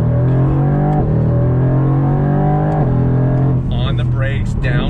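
A 2020 Mercedes-Benz AMG GT R engine revs hard while driving, holding a loud sustained note with brief dips at each downshift, then rising again as it pulls out of a turn; excited voices and tyre noise join near the end.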